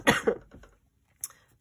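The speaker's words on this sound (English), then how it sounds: "Yep, I'm still coughing." A few harsh coughs close up, two strong bursts followed by a smaller trailing one, then a pause and one more short cough.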